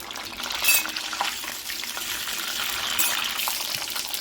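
Amaranth leaves and tomato frying in a pan, giving a steady hiss and crackle with a few stirring scrapes throughout, fairly close and without talk.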